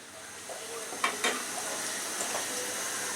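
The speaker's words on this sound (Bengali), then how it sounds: "সেইগুলাকে ভেজে বেরেস্তা করে নিচ্ছি" About two cups of chopped raw onion frying in a pan until crisp for dried shrimp balachao, a soft steady sizzle with a few louder stirring scrapes, close and fairly quiet, no talking.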